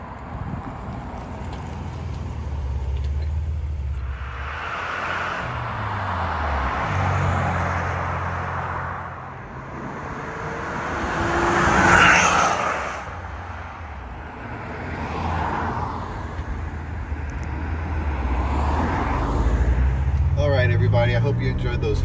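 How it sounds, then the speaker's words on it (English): A 1984 Nissan 300ZX Turbo 50th Anniversary Edition passes by on a road several times, its engine swelling as it nears and fading away, heard from the roadside at moderate distance. "Head over to our flyby roads so you can see this flyby a few times, get a better feel for it on the outside,"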